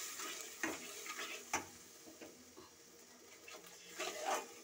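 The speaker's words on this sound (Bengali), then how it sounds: "এটাকে ভালো করে জল দিয়ে আমি নাড়িয়ে নিচ্ছি, ভেজে নিচ্ছি।" A spice paste of ground coriander and fennel with a little turmeric is stirred and fried with water in a pan. Soft, intermittent scraping and gentle sizzling come through quietly and close by, with no talk.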